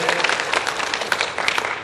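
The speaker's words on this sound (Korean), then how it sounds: "축복의 박수." Brief, steady clapping from a church congregation during a Sunday worship service, dense and close, with voices mixed in.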